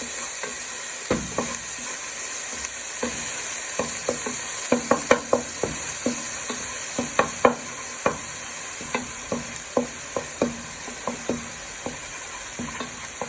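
Beef mince for a cottage pie sizzling in a pan while a wooden spoon breaks it up, giving a continuous fry hiss over many quick, close tapping and scraping knocks in uneven bursts.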